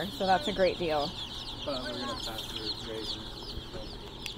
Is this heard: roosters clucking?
yes